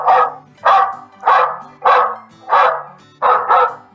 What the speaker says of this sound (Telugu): గీ మైక్ అయితే అచ్చం కుక్కరిసినట్టే హరుస్తుంది రో.